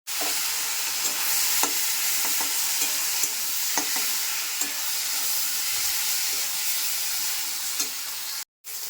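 Chorchori of beans, eggplant, potato and spinach stir-fried in a pan, giving a loud, steady hiss of sizzling with occasional spatula knocks and scrapes, cutting off briefly near the end.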